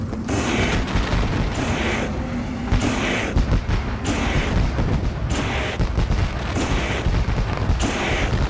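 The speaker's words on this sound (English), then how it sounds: "You see the fire and the fireworks going off." Fireworks go off over Eldora Speedway during pace laps before a race, a continuous barrage of loud booms and crackling bursts pulsing in rapid, repeated waves over a roaring background.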